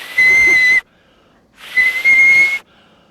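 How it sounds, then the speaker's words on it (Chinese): A person blows a whistle in two shrill, steady bursts close by, the second starting a little unevenly, with silence between them. "再给你吹一个口哨。"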